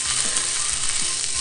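Pork belly rolls wrapped around garlic shoots sizzle in a single pan for a bento, a loud, steady crackling fry with a few soft low knocks as the rolls are turned.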